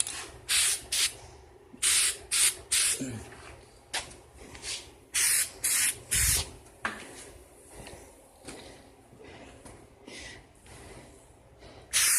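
Spray paint hisses onto a wooden pinewood derby car for a third coat in a series of short, loud bursts, several in quick succession then more spaced out, heard close up with no speech.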